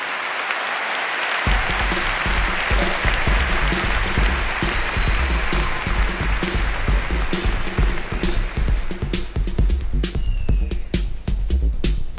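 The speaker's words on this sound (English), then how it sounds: "Huge round of applause." A conference audience at Web Summit 2017 in Lisbon bursts into loud, sustained applause after a brief silence, the clapping filling the hall evenly throughout.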